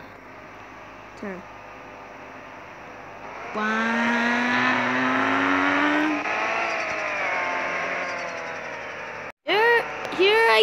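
A car engine revs in a Roblox taxi game as the car drifts and spins, a steady rising whine that climbs in pitch and holds loud, with a voice speaking briefly over it and a sharper burst near the end.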